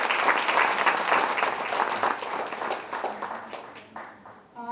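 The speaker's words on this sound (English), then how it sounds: "kindly give him a big round of applause for Mr. Hari Nair" Audience applause for Mr. Hari Nair at an HR conference, dense steady clapping from a seated crowd that thins out and fades near the end.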